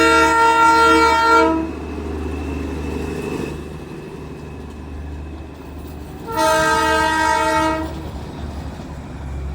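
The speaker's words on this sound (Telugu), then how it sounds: "అప్పుడే మేము ఈ లోకల్ ట్రైన్ని స్పాట్ చేసాం." A local train passes near New Jalpaiguri railway station, sounding two loud, sustained horn blasts separated by several seconds of rolling wheel and carriage rumble.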